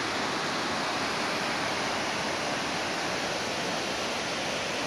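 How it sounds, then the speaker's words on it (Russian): Golling Waterfall in Austria sends water crashing down in a steady, dense roar that fills the whole stretch evenly, with no pauses and no voices. "с какой мощностью, с какой силой вода стремительно падает вниз"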